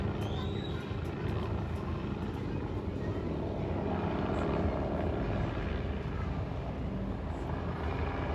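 Helicopter circling over Malacañang at night, a continuous rumbling rotor and engine drone, steady and moderately loud throughout with no clear talk.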